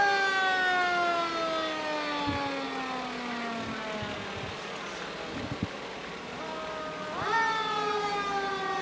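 A fire engine's siren wails through a Christmas parade, its falling tones sweeping down steadily before rising again near the end, loud and sustained over the crowd's background noise.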